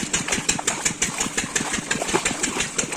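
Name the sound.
irrigation water pump engine running in field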